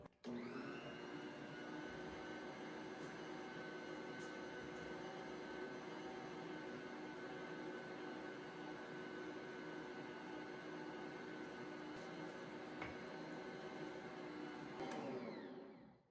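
An electric stand mixer kneads crescent roll dough in a home kitchen, running as a loud steady motor whine and hum, with a few faint clicks and knocks, before it shuts off near the end.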